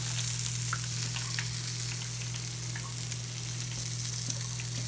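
Onion rings fry in hot oil at home, giving a steady, close, fairly loud sizzle with scattered small pops and crackles throughout, with no voices.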